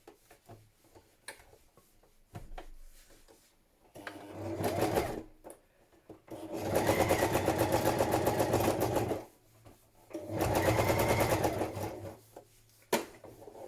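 A sewing machine stitching a padded patchwork journal cover, running in two long steady whirring bursts with short stops and a few clicks between them, fairly quiet and close.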